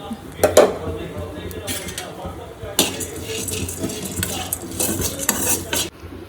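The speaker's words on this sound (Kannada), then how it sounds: "ನೆಕ್ಸ್ಟ್ ಇದು ಸೂರ್ಯಕಾಂತಿ ಬೀಜ ಹಾಕ್ತಿದ್ದೀನಿ." Sunflower seeds are tipped into a pan while dry fruits are prepared for a baby's powder, giving a few clinking, rattling scrapes of metal and seeds, with brief sharp knocks and a faint voice in the background.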